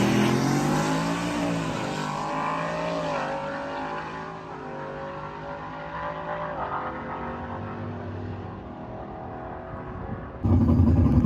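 On a drag strip, a turbocharged race car runs loud and steady with a droning engine note that climbs and shifts pitch several times, then cuts to a sharp burst at the end, with no voices.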